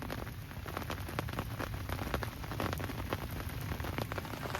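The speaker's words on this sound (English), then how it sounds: "just look at the rain and the wind pushing across" Steady rain patters hard on a surface beside a carp fishing lake, with wind driving it across the water; a dense, continuous hiss with close drop ticks and no talk.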